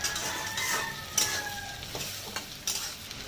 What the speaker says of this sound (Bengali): এখন পেঁয়াজটা ভাজার সময় কিছুটা টমেটো দিলাম